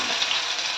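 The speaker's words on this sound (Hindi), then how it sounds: "तेल रे जीरा पकईली भजा बादाम पकईली" Cumin seeds and peanuts fry in hot oil for sabudana khichdi, a short burst of close, steady sizzling with a bright crackling hiss and no voices.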